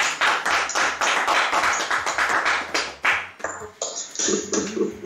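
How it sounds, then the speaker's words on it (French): Audience at a French religious gathering clapping for Nicolas as a ring box is opened, brisk close claps that thin out toward the end with a few scattered taps. "on applaudit Nicolas"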